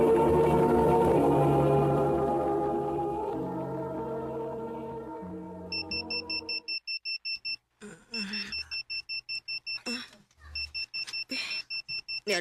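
An alarm clock in a Cebuano radio drama starts with a fading musical tone, then switches to a loud, rapid electronic beeping in repeated bursts with short gaps between them.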